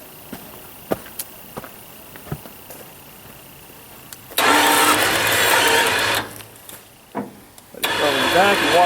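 Suzuki winch motor running in loud whirring bursts, first a long continuous stretch then a shorter run, with quieter clicks and handling noises between.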